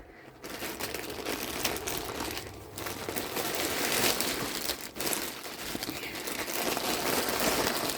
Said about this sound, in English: I think I just need to cut these two.